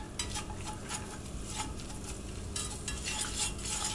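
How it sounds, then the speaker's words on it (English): Flour roux cooking in a pan while being stirred, giving a soft steady sizzle with scraping and clinking of the spoon against the pan, close and continuous. "Let your flour cook in while stirring for about a minute."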